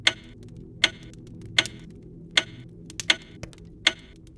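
Ticking clock in the co-op puzzle game We Were Here Together, a steady series of crisp ticks spaced under a second apart over a faint low room hum, with no voices.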